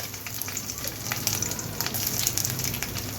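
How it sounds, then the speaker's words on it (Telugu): Steady sizzling and crackling of onions, ginger, dried chillies and lentils frying in oil in a pan, a constant bright hiss with small pops. "ఉల్లిపాయలు వేసుకొని వేపుకుందామండి."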